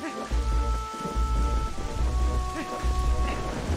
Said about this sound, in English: Oh shit, lightning.